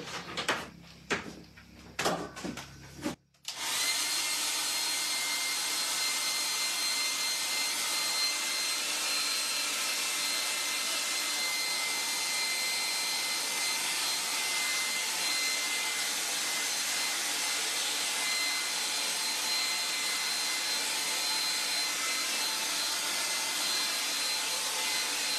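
A hair dryer blasts steadily and loudly at close range over a watercolor painting, a continuous whooshing roar that starts after a few seconds of brief handling knocks and runs unbroken to the end.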